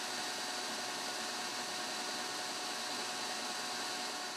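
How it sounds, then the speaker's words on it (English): A Ryobi belt and disc sander runs together with a shop vacuum, giving a loud, steady, hissing whine that holds constant throughout with no talking. "We're going to turn on our vacuum, and we're also going to turn on our belt sander and see how smooth we can get this."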